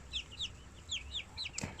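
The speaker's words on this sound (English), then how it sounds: "It's that baby chick." A baby chick, about quail-sized, gives a quick series of thin high peeping chirps, close and fairly soft, with a low rumble beneath and no talking.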